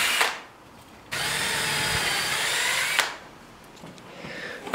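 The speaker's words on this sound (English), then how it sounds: "So pre-drill them where you want your screws to be." A power drill whirs steadily for about two seconds, boring pilot holes into a tree branch, with short quieter bursts before and after.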